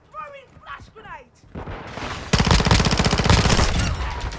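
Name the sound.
flash grenade thrown in video game Call of Duty MWII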